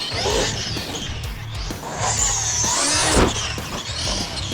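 Traxxas XRT radio-controlled monster truck with a Max5 XLX2 setup and a loose belt, ripping across rough ground: a high motor whine rising and falling, with thumps and scrapes as it lands and bashes about, no talking.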